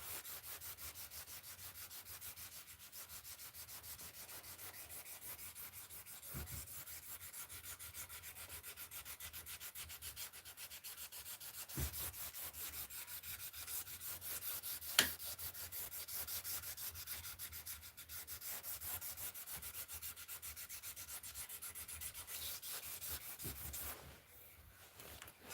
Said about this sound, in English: I can tell it still needs more sanding.